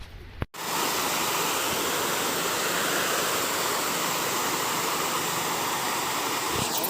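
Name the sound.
water flowing in a stream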